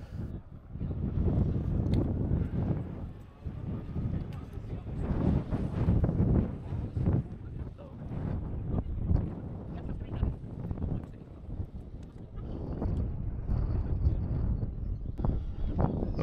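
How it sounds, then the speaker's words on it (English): Strong wind buffets the microphone during a fast powerboat run on open water, a steady roaring rumble with gusting surges that continues throughout, close and loud. "With the sun dropping and the wind staying strong"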